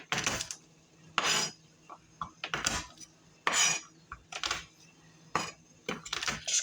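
Garlic cloves crushed with a knife on a cutting board in a home kitchen, heard as a series of sharp, close knocks and clattering impacts at an irregular rhythm, with quiet gaps between them and no talking.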